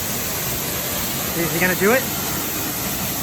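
A waterfall in the Columbia River Gorge, heard from behind the falling water, gives a constant loud broadband roar throughout, with a person briefly speaking over it.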